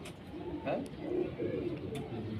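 Teddy pigeons coo in soft, low, rounded bursts close by, a few short rolling calls spaced apart over a faint background.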